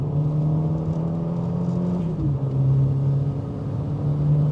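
A turbocharged Nissan K11 Micra engine drones loud and steady, with a brief dip in pitch midway as the revs shift, then settles back to a constant hum.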